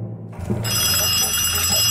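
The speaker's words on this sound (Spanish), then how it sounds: "Ya empezamos con el teléfono." A telephone rings in the game Ad Infinitum: a loud, sustained electric bell starts after a brief pause and continues steadily to the end, with a low hum beneath it.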